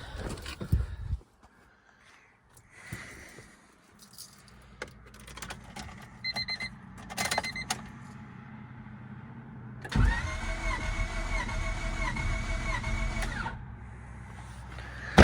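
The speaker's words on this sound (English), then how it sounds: "We're gonna crank it 5 times and see what we get." Honda Civic turbo engine cranking over on the starter during a compression test, a steady whirring crank of several seconds following scattered workshop clatter, fairly close and loud.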